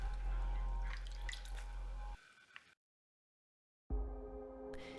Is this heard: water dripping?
yes